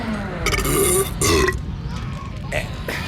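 A baby gives a couple of loud, close burps in the 1991 sitcom Baby Talk, followed by fainter ones, with some voices in the background.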